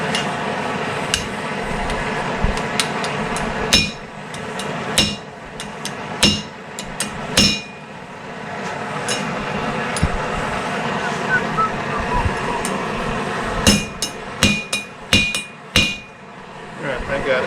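Sharp metal hammer blows knock a part down on a 5-ton crew cab truck build, landing in irregular clusters over a constant background rumble.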